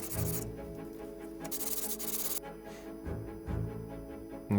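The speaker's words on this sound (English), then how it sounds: "So just sanding now on a piece of glass." A hand plane's sole or parts rubbed back and forth on a sheet of flat glass while restoring an old Record plane, giving steady close scraping strokes with brief pauses between passes.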